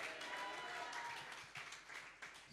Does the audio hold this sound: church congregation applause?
yes